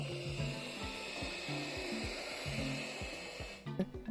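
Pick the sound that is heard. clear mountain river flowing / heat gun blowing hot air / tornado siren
heat gun blowing hot air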